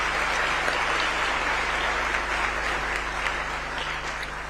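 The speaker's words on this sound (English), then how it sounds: "Another round of applause for His Excellency and all the speakers." Crowd applause fills a hall at a World Health Summit regional meeting, dense continuous clapping from many people at a steady level over a low electrical hum, fading slightly toward the end.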